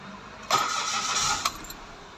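A 2023 Mitsubishi Mirage G4 engine cranks with a short whirring burst lasting about a second, then catches and settles into a quieter idle, heard close and alone.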